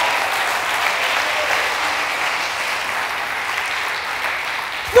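A church congregation claps for Jesus during a sermon, a dense, even wash of applause from many hands that holds steady and loud for the whole stretch.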